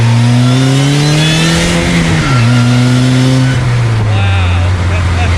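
A DF Goblin street-legal go kart accelerates hard in second gear, its small engine droning loud and close with rising then settling pitch, a brief dip around a shift, steady throughout the clip.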